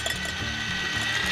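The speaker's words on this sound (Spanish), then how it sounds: "vamos a pasar a poner el huevo en un bol y lo vamos a batir un poco" An egg being beaten in a bowl with quick, light strokes for muffin batter, giving a brief series of close, rhythmic clinks and taps against the bowl.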